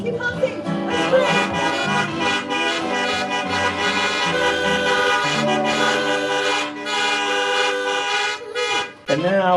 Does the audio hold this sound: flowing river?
no